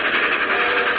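Loud, steady rushing roar of a steam locomotive sound effect from an old-time Superman radio show opening, thin and band-limited like vintage broadcast audio, with no speech.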